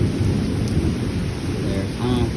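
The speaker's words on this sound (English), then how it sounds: "That is a big thunderstorm we're in." Thunder rolls through a heavy summer thunderstorm with rain, a loud, steady low roar that fills the whole stretch without a break and has no voices over it.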